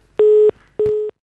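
Telephone ringback tone on an unanswered call, two long steady beeps separated by a short gap, clear and close with no voices.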